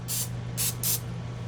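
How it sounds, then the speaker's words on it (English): Canola oil cooking spray misted over flour-coated chicken tenders in an air fryer basket: three short, close hissing bursts, the second and third nearly back to back, over a low steady hum. "I'm also applying a little canola spray."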